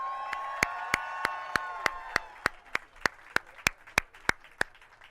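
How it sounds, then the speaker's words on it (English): Clapping at a Hollywood Walk of Fame star ceremony, heard as sharp, evenly spaced claps in a steady rhythm over a sustained tonal crowd or music bed, moderately loud and fading slightly. "let's congratulate him and give him a big round of applause."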